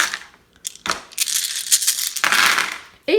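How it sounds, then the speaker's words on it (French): Orange dice from the board game Nada rattle and skitter across a tabletop in a couple of clattering bursts, close by, with a short quiet gap at the start. "le deuxième joueur va lancer tous les dés oranges à côté."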